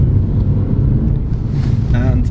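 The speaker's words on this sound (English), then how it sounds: "Just having some fun in my Clio RS Line" A 2021 Renault Clio RS Line with a 1.3 turbo four-cylinder and seven-speed dual-clutch automatic, driven on the road, gives a loud, steady low rumble throughout, with a brief rising tonal whine near the end.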